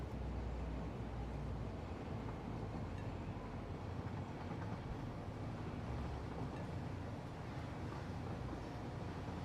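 A train in the factory-building game Satisfactory rumbles past, a steady low roar with a wind-like wash that holds evenly loud for the whole stretch, with no talking.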